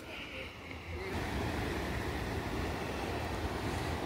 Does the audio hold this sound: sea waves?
yes